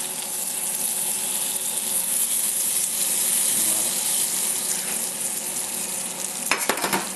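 Butter melts in a hot pan, giving a steady, close crackling sizzle that runs throughout with a brief clatter near the end; no one speaks.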